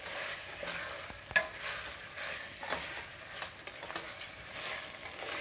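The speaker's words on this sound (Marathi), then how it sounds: "साधारण 5 मिनिटं मी मटण चांगलं परतून घेणार आहे" Mutton pieces sautéing in hot oil in a pan for a spicy mutton curry, giving a steady close sizzle broken by occasional scraping stirs and clinks of the spatula, with no talking.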